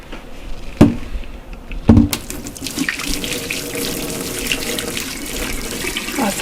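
Hot liquid is drained from an Instant Pot into a kitchen sink, a steady splashing pour of water hitting the basin after a couple of sharp clunks of the pot, close and fairly loud.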